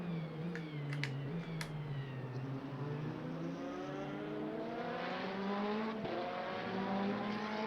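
Race car engine in the Le Mans Ultimate sim racing game at Portimao, droning steadily with rising and falling pitch as it brakes into a corner and accelerates out, loud and continuous with no talk.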